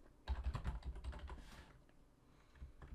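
Close, faint keystrokes on a computer keyboard rattle quickly in a cluster of taps, then slow to a few scattered presses.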